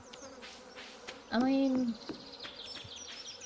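Buzzing of bees in the farming video game Stardew Valley, a thin insect hum under background game sounds, with a brief louder buzzing tone partway through and a person speaking briefly.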